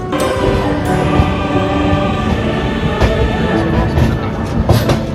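Gitanjali Express (12859), an AC 3-Tier train from Mumbai to Howrah, rumbles along at steady speed with a continuous loud clickety-clack of wheels on rail joints, heard from inside the coach.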